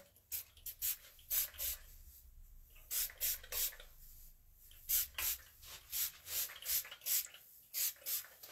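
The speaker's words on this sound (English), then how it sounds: "I am going to spray a little bit of the Thirsty Curl" Thirsty Curl hair product is spritzed onto short to medium-length tight 4c curls, giving a string of short, close, soft hissing bursts in an uneven rhythm, with quiet rubbing and handling sounds between them.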